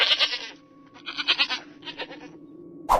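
A goat bleats in a few wavering, nasal pulses, close and fairly loud, used as a sound effect in a horror story narration, followed by a brief sharp noise at the end.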